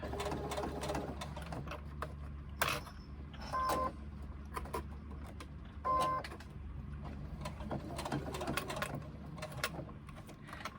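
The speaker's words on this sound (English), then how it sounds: "this is a Pacifico vinyl, it's a different texture and my machine's behaving with it." A home sewing machine stitches through Pacifico vinyl in quick mechanical bursts, a rapid needle chatter that pauses and restarts several times, close by with small clicks and handling noises between runs.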